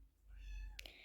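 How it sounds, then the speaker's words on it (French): A cat meows once inside an indoor horse-riding arena, a short rising-and-falling cry followed by two sharp knocks, fairly close over a low background rumble. "Il y a un chat dans le manège."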